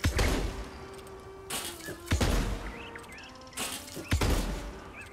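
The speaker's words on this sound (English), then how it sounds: "Listen to the time between firing and the beginning of the reload sound." Three heavy gunshots from a video game weapon ring out a second or two apart, each a loud blast with a decaying tail, followed by small mechanical reload clicks between shots.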